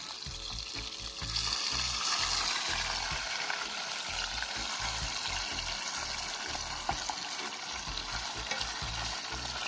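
Fish fries in oil in a pot outdoors, a loud, dense crackling sizzle that swells after the first second and then holds steady throughout, close up with bursts of bubbling and no talking.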